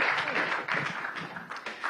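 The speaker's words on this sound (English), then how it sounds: "Another round of applause for the lovely panel over here." Brief applause from an audience for a panel at an investment event, a short soft patter of clapping that fades in and out.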